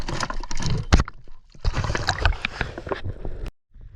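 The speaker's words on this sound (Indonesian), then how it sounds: "sekarang saya berusaha untuk menaikkan ikan ini ke atas perahu" Water sloshing and splashing in loud, irregular bursts as a big fish caught spearfishing is hauled up onto a small boat, with brief pauses between surges.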